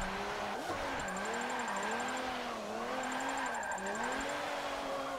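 A car drifts in Forza 7 online drift lobby, its engine wailing and rising and falling in pitch as the throttle is worked through a slide, loud and continuous with tire squeal.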